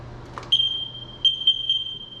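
High-pitched electronic beeping from a dual carbon monoxide and smoke detector mounted in a hallway of a new-build house, sounding in steady bursts with short gaps, fairly loud and close.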